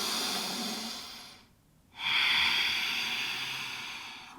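Slow, deep breathing during a power yoga hip opener: a long airy exhale, a short quiet pause, then a strong hissing inhale, close and steady.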